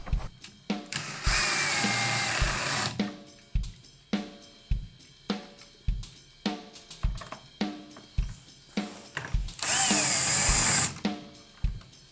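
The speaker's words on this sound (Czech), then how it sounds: "A protože jsme líní, tak si pomůžeme tady jako šroubovákem." Power screwdriver spins the tension rods on a TAMA Starclassic walnut/birch bass drum, giving two long whirring bursts between many short clicking and tapping sounds of handling hardware, close and clear with no speech.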